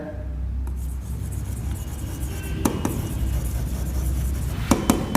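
Writing during a Class 12 accounts lesson on the issue of shares: soft continuous scratching and rubbing of a pen or marker over a steady low hum, with a few small taps and clinks.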